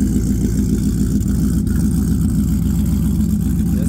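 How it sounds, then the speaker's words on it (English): A supercharged Whipple Ford Lightning pickup truck engine runs at a steady, rough idle, a constant low rumble with no talking. "This is how the truck sounds right now."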